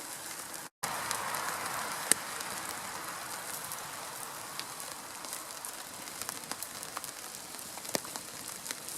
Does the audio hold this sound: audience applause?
no